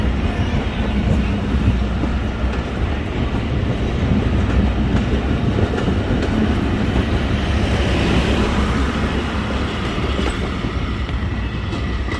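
A six-coach train running toward Drigh Road Station, a loud, continuous close-up rumble with clattering wheels and a faint squeal throughout, without any speech.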